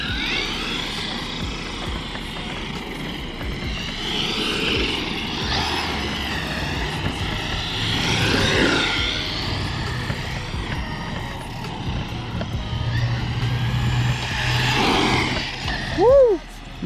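A Traxxas E-Revo 2.0 RC truck on speed runs, a loud continuous electric motor whine rising and falling as it accelerates and passes, with voices audible over it and a sharp pitch sweep near the end.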